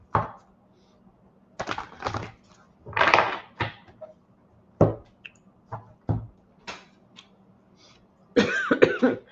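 A person coughs several times in short, scattered bursts against a quiet background, with a few throat-clearing sounds mixed among the coughs.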